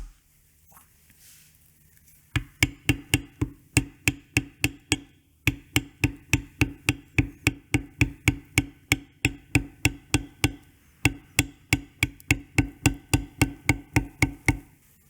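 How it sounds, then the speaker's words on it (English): A mallet strikes a beveler while tooling a leather sunflower spur strap, giving a long run of close, sharp, evenly paced taps that pause briefly before resuming. "I'm pushing the boundaries of the beveler side, so I'm just tipping it off to the side to roll around"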